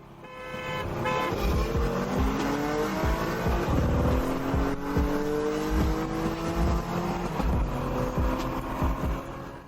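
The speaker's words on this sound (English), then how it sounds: "We're going to accelerate from 40 km per hour to 200." A car, a Ford Mustang or Chevrolet Camaro, accelerates hard from 40 to 200 km/h, its engine note climbing through several rising gear pulls with brief dips at the shifts, loud and sustained, with no talking.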